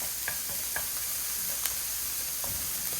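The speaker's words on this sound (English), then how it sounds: "So give this a good stir." Mushrooms and onions sizzle in butter as a spoon stirs them, a soft continuous frying hiss broken by a few light scrapes and taps against the pan.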